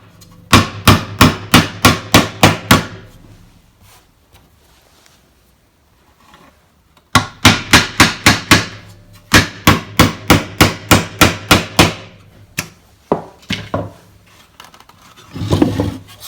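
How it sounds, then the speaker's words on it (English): One-inch galvanized roofing nails are hammered into the metal-covered roof of a cedar birdhouse in quick ringing blows. Two loud, close runs of rapid strikes are separated by a quiet gap, followed by a few scattered taps. "And you're using just a couple of 1-inch galvanized roofing nails."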